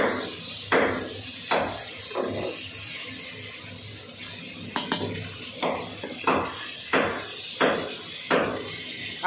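Construction work on a house roof, with repeated hammer blows in an irregular rhythm, heard from a distance over steady background noise and faint clinks.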